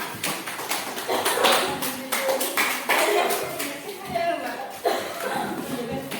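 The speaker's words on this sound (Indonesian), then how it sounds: "boleh tepuk tangan dulu untuk kita semua" A group in a classroom claps hands in irregular bursts, mixed with talk and some chuckling nearby.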